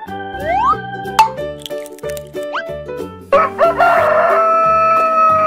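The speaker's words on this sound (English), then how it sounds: "Rooster." A cartoon rooster crows in a children's nursery-rhyme song, a loud, clear call set against bouncy music with plops and clinks.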